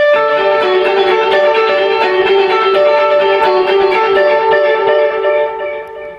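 Electric guitar notes, played in a steady repeating pattern, each note smeared into rhythmic echo repeats that ring on and fade at the end.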